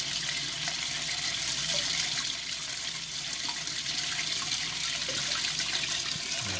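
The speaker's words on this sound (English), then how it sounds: "the water is flushing that valve of any debris, and the water is just collecting in the bottom" Water rushes steadily from a toilet tank fill valve into a cup while the valve is flushed of debris during a running-toilet repair, a loud continuous hiss and splash held for several seconds without speech.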